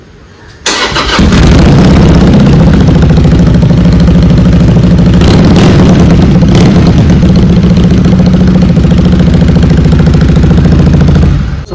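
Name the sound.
Harley cruiser superbike double engine revving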